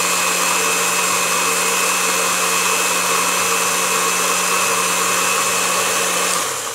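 A blender runs continuously for about six seconds, grinding carrot juice with water in a loud, steady motor whine that winds down at the end; no talking.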